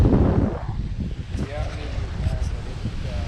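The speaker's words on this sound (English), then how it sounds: "It is so windy out." Strong wind buffets the microphone beside a pond on a bass fishing outing, a loud broadband rumble that gusts and sags throughout, with people talking over it.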